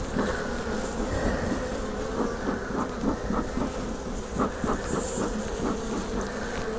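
Honey bees from a large colony at an apiary hive buzz continuously and loudly up close, a dense steady drone with many overlapping wingbeats and small fluctuations, no talking.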